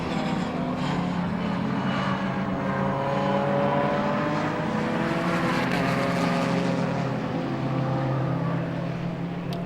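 A BMW race car driven by Mark Lee approaches at Abbey corner on the Silverstone GP circuit, its engine a steady, sustained roar that builds slightly as it draws nearer, heard alone throughout.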